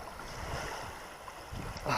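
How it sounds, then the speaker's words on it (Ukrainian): Strong wind buffets the microphone in low gusty rumbles while fishing on the Inhul River in Mykolaiv, Ukraine, with faint water sloshing nearby and no voices. "І по-друге, вітер такий страшний."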